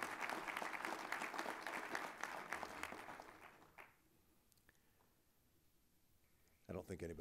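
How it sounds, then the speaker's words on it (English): Audience applause at a local business awards ceremony, a dense burst of clapping for about four seconds that fades out, followed by quiet and a brief renewed patter at the end. "your applause is well received, I'm sure"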